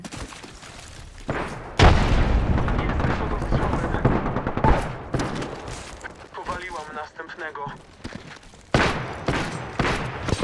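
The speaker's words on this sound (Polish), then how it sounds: "Leci granat odłamkowy." A frag grenade blows up in the Apex Legends video game: a heavy booming burst followed by rumbling gunfire, with a second loud blast later and a voice talking over the action.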